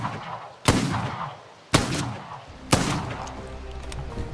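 Three sharp, loud gunshots in the Bloodhunt video game, spaced about a second apart, each a hard crack with a short rumbling tail.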